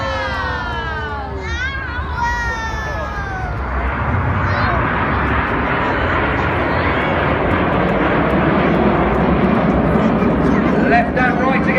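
RAF Red Arrows jets roar through a vertical display manoeuvre, a loud sweeping engine rush with falling pitch that settles into a sustained broadband roar, while a commentator talks over it and a crowd is faintly present.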